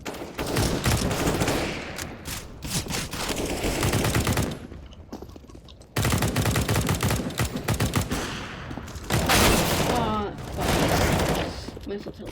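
Rapid automatic gunfire in the shooter game CS:GO, long loud bursts with short breaks and a brief lull midway, overlapping scattered voices.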